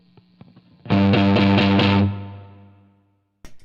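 An electric guitar played on the neck pickup through a plexi-style amp gives a thick, muddy, distorted tone: a loud strummed chord with a few rhythmic chops, then a sustained ring that slowly fades to silence before a short click.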